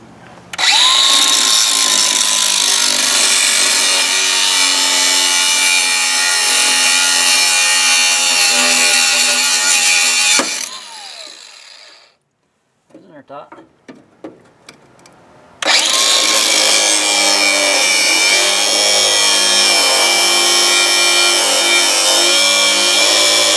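A power tool cuts through the U-bolts on a bent trailer axle, a loud steady grinding whine that runs for about ten seconds, stops briefly with a few clanks, then resumes at full volume.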